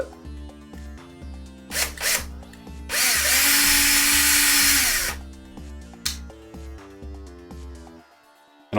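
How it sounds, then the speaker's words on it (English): Power drill boring a pilot hole in a Warhammer 40k miniature, a few short bursts of whirring at low speed then a sustained two-second run, close and loud over background music. "I usually use the drill setting here"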